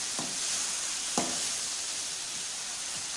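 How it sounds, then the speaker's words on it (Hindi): Whole and chopped green chillies fry in a pan of chicken and ridge gourd curry, giving a steady, moderately quiet sizzle with two brief stirring scrapes and no talking. "ये हरी मिर्चें साबुत और कटी हुई ये भी डालेंगे। और इसको अच्छी तरीके से फ्राई करेंगे।"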